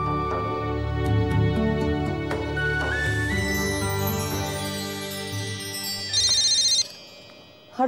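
A phone ringtone plays as a melodic electronic tune in a TV serial scene, loud and steady for several seconds, with no talk over it.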